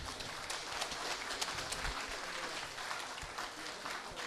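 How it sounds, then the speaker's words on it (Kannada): An audience at the Jayavijaya award ceremony gives loud, sustained applause, a dense wash of clapping with a few sharper individual claps standing out, alone without speech. "ಜೋರಾದ ಚಪ್ಪಾಳೆ ಹಾಕಿ"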